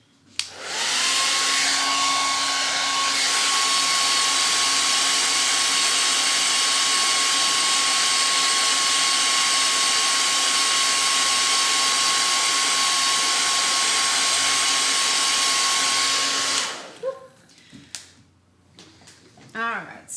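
Hair dryer blowing on stippled stencil paint on a bell-shaped Christmas sign, a loud, close, steady whoosh with a constant whine running about sixteen seconds before cutting off, followed by a few soft handling sounds.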